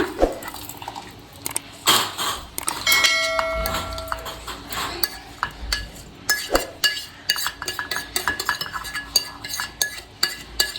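Cooled gooseberry chutney is scooped into a mixer jar: repeated clinks, taps and scrapes of a utensil against the jar, irregular and close, with brief ringing tones between soft rustles.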